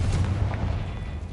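A loud, sustained rumbling blast from the Confringo blasting spell in the Hogwarts Legacy video game, with a deep booming low end and no voices.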